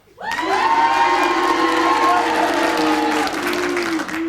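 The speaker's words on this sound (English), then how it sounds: "if you do, you cheer for Tony, and if you don't, you boo for Tony" A television studio audience erupts for Tony Hawks in a sudden, loud wave of cheering, whoops and booing that holds steady for several seconds before easing slightly.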